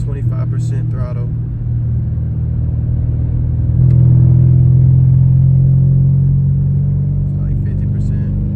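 A BMW 650i engine revs up into its boost range, a deep, loud rumble that swells midway into a sustained higher drone before easing back, heard from close by.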